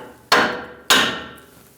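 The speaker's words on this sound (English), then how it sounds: "You can use a removal tool or just tap it with a hammer." Two sharp metallic hammer strikes knocking a tie rod end loose from the steering knuckle of a 2011-2018 Ram 1500, evenly spaced, close and loud, each ringing briefly as it fades, with no speech.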